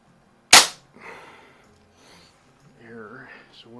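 A single sharp crack from an Umarex Zelos air pistol, close and loud, followed by someone talking quietly.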